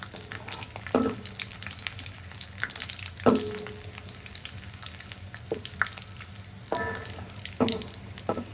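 Onions frying in a pan of oil, a steady close sizzle broken by several sharp clatters of stirring across the clip.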